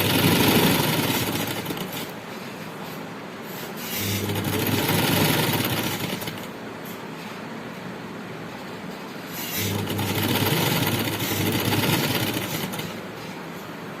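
Domestic sewing machine stitching a folded strip onto a tulip shalwar, a steady mechanical whir running in bursts that swell and ease, close and moderately loud with no talking.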